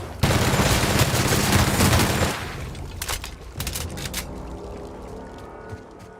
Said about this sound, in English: This gun is noisy.